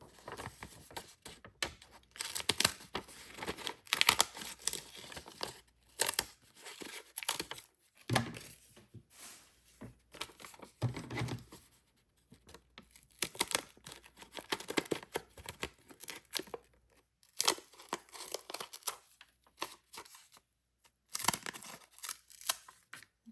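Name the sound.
scissors cutting paper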